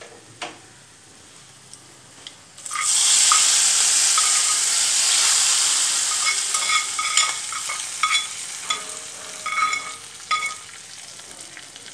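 Bitter gourd, already cooked, is tipped into a pan of fried onions and stirred. A loud sizzle bursts in after a quiet start and fades gradually, broken by clinks and scrapes of the spoon, with no voices.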